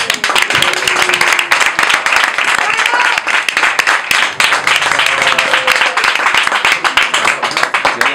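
An audience claps dense, steady applause for a singer-songwriter at a small live music venue, loud and close, with a few voices faintly mixed in throughout.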